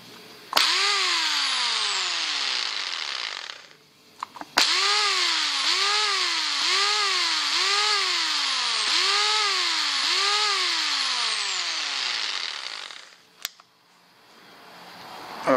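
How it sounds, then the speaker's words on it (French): Electric drill with its trigger locked on, powered through a foot-controlled outlet, whining up and down in six or seven rhythmic speed surges after an initial burst, then cutting off with a click, loud and close. "Si je branche ma perceuse"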